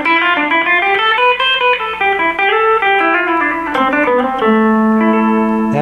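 A rock guitar lick built on a minor scale, played as a flowing run of single notes through an effects unit and ending on sustained notes. It is loud and close, with no voice.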